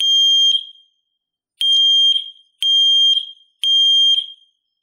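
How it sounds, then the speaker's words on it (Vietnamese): A Wi-Fi smoke alarm rated at 80 dB sounds four loud, piercing electronic beeps, each about half a second long, with a longer pause after the first and evenly spaced after that, with no other sound between them. "Bạn có thể nghe được âm thanh báo khói này ở mọi vị trí trong ngôi nhà bạn."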